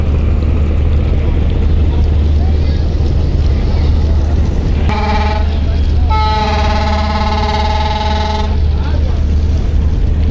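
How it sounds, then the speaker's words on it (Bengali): The MV Jubaraj 7 passenger launch sounds its horn, a loud, steady, sustained tone that starts abruptly, breaks briefly, then resumes for about two more seconds. Heavy engine rumble and wind run throughout, with a voice talking. "যুবরাজ 7 লঞ্চ হরেন দিল মাত্র।"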